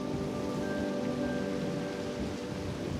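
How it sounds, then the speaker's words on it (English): Heavy rainstorm in New Orleans, a dense, continuous downpour with steady hiss and rumble, loud and uninterrupted throughout. "This is our daily storm."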